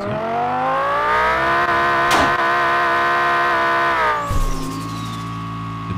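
Lamborghini Countach engine in Car For Sale Simulator 2023 holds a loud, steady high rev with rich layered harmonics, dips briefly midway, then settles into a lower sustained drone near the end.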